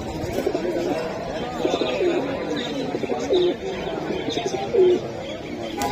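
Pigeons coo repeatedly in soft low calls amid a busy, chattering crowd at a pigeon market, with birds chirping faintly in the background.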